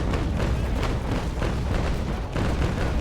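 Ship cannons firing in the naval combat game Naval Action, a dense, continuous run of booming broadside shots rolling together loudly over the full stretch, with a brief dip before the barrage resumes.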